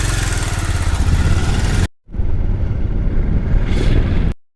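Pulsar motorcycle engine running while riding on a rough village road, a loud close mid-pitched engine drone with wind noise, cut briefly by a gap before resuming just as loud.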